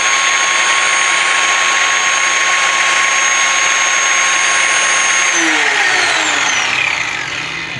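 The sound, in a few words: Black & Decker G650 angle grinder running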